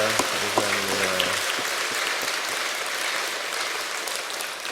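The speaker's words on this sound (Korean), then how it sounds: "우리 뜨거운 박수로 환영하겠습니다." A church congregation gives warm applause to welcome newcomers during a Sunday service, a dense, busy patter of many hands that follows a brief fading musical tone at the start and carries on alone.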